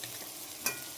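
Paste of ground ginger, cumin, garlic and dried red chilli with turmeric and salt is frying in a pan. It gives a steady soft sizzle with one brief louder scrape near the end.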